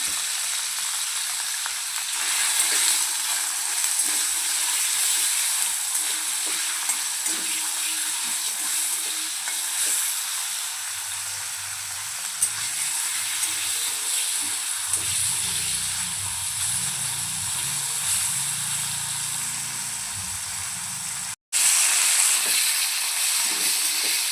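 Paneer cubes frying in oil in a pan, a loud steady hissing sizzle that carries on for over twenty seconds, with low stirring and bubbling sounds rising midway and a brief cut near the end.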